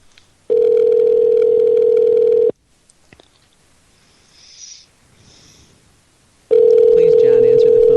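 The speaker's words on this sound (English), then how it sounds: "Please, John, answer the phone." An outgoing phone call ringing: two long, loud, steady ring tones of about two seconds each, separated by a few seconds of near silence with faint background rustle.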